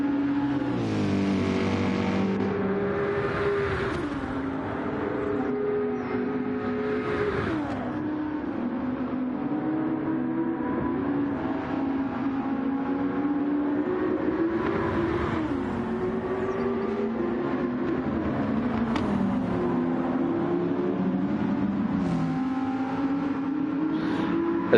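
GR3 race cars with full tuning, about 600 horsepower, racing at Goodwood in a driving video game: a loud, continuous engine drone that rises and falls in pitch as cars accelerate and shift, with several engines overlapping throughout.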